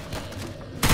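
A short burst of gunfire in the video game Left 4 Dead 2, with a rapid muffled volley ending in a louder, sharper shot.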